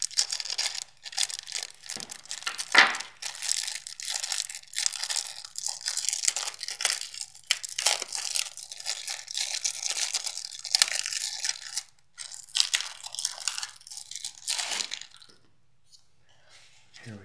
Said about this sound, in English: So let's open the crane starter up and see what kind of cards